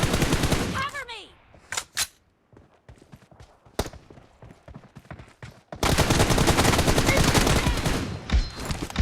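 Gunfire in the video game PUBG Mobile: short clattering automatic bursts and single shots break up quieter stretches, then a long dense loud barrage fills the final seconds, with in-game voice callouts between.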